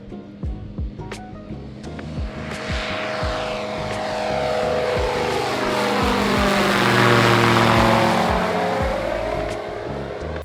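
Orion Cub light propeller airplanes flying overhead at a flying field, an engine drone rising as a plane approaches and passes close with a Doppler sweep, over a ticking rattling noise nearby.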